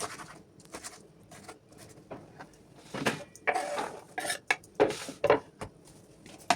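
Irregular knife chops and scrapes against a board while chopping wild greens, a few sharper knocks mixed with light rustling, close by and without talk.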